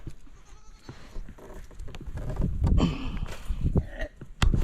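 Goats on a farm bleat several times at close range, the calls rising over shuffling hooves and rustling movement in the pen.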